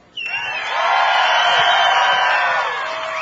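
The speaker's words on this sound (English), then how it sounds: "make lots and lots of noise as we bring our anglers through here" A large crowd at a Bassmaster Elite Series bass fishing tournament weigh-in on West Point Lake roars with whoops and shouts, a loud sustained cheer that swells quickly and holds steady throughout.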